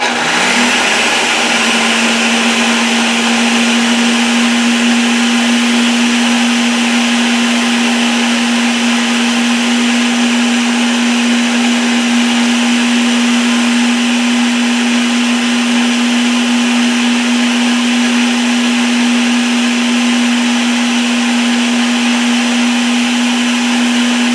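A steady, unbroken whir from an electric mixer running on its mix setting through chocolate fudge cake batter, holding one even pitch for over twenty seconds close by, with no talking.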